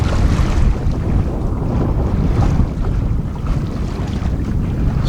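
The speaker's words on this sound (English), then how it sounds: "It takes ages and ages and lots of messing about before the wind fills in, but this one has just come straight in." Strong wind at sea buffets the small sailboat Mingming II near Bear Island, a loud, continuous low rushing roar with gusty swells and no voices.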